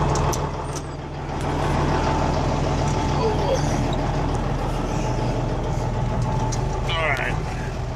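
A truck engine runs steadily outdoors with a loud, constant low rumble throughout, and someone talks over it.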